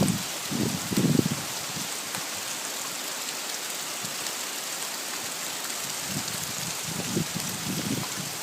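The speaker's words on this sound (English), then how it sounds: "It's mainly raining now." Steady rain falling after a hail storm in Calgary, a broad even hiss of drops on surfaces heard close and constant, with a few low rumbles at the start and end.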